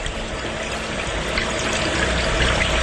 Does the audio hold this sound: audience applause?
no